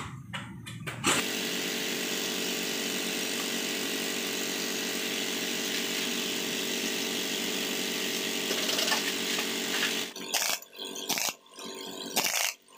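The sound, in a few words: impact wrench tightening a motorcycle nut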